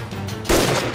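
Gunfire in a TV drama scene breaks out as a single sharp, loud burst partway through a brief moment, over a steady background rumble.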